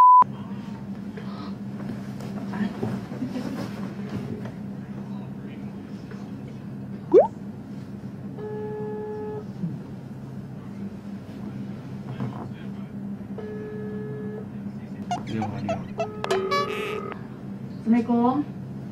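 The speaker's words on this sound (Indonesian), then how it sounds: "Telepon mama sekarang." A phone dialing out to call a mother: short tone beeps repeat in pairs, then further beeps and electronic tones near the end, with a voice and other people talking nearby.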